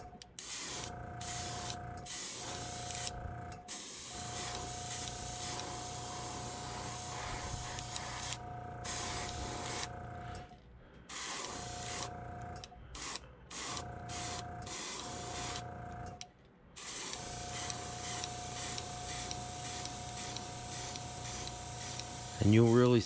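Airbrush spraying iridescent paint onto a blue-backed jerkbait fishing lure, a steady soft hiss delivered in repeated bursts with short pauses between passes, fairly quiet and close, with a little talk around it.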